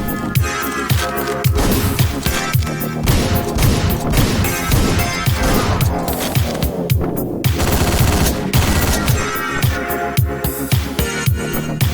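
Constant rapid gunfire and crashing impacts from the video game Hotline Miami 2 fill the clip, loud and dense with barely a break, and no voice over them.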